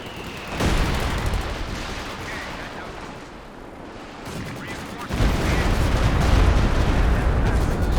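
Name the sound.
walking Stuka rocket barrage in video game Company of Heroes 2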